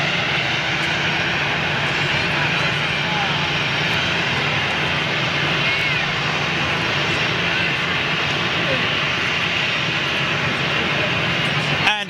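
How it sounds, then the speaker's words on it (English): KLM Boeing 747-400 jet airliner at Düsseldorf airport gives a loud, steady engine roar lasting the whole stretch, with a person talking over it. "The old 747-400 KLM 747-400."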